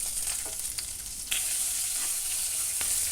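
Sliced onion frying in a pan for a vegetable stew made with coconut milk, giving a steady, close sizzle throughout with a few light stirring scrapes and small pops.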